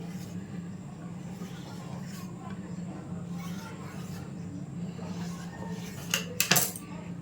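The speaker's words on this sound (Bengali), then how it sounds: "পাতলা পাতলা করে, সরু সরু করে এরকম করে কেটে নিচ্ছি।" A knife cutting flour dough into thin strips on a board, faint soft taps under ongoing talk, with a few louder knocks near the end.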